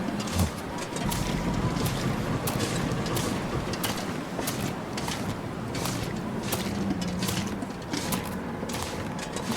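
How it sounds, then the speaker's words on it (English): Blustery winter wind rushing and gusting in repeated bursts over a low rumble in a video game, steady and fairly loud throughout. "Pretty windy, slowing us down."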